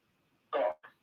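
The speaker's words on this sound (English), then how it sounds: "A cough." A single close, sharp cough followed by a short softer catch, in a quiet room with no talking.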